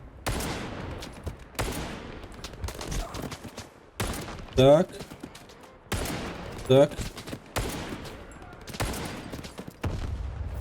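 Loud gunfire in the video game S.T.A.L.K.E.R. 2 comes in repeated heavy bursts at steady intervals, with a man's brief spoken words between some volleys.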